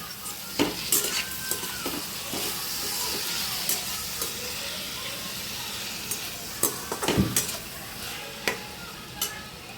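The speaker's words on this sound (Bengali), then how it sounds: "ভালো করে নাড়িয়ে নেব আমি" A spiced chutney with green chillies sizzles steadily in a pan while a utensil stirs and scrapes it, giving sharp clicks and knocks over the continuous frying hiss.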